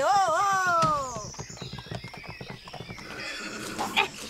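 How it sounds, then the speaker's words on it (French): A horse whinnies loudly up close with a long wavering neigh, followed by a run of quick clip-clopping hoof beats, with a brief voice at the end. "Oui, c'est bien, Fancho, t'es un bon cheval."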